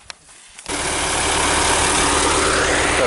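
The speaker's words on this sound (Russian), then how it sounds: "Так, вот и трактор подоспел." A tractor arrives during village hay-making: after a short quiet moment its engine rises into a loud, steady, close rumble that continues to the end.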